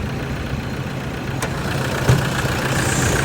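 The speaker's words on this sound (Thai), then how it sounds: "ก็จะเป็นตัวห้องเครื่อง ดีเซล D4 DVN Turbo นะครับ" A steady, low idle from the 2.5-litre 2KD D-4D turbo diesel engine of a 2013 Toyota Hilux Vigo pickup hums evenly throughout, with a couple of faint clicks and knocks over the drone.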